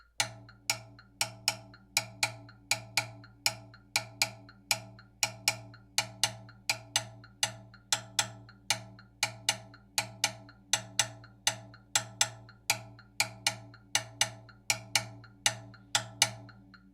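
A drum kit ride cymbal plays a steady Latin jazz ride pattern, close and distinct, with regular metronome clicks between the strokes, a sustained low drone underneath and no talking.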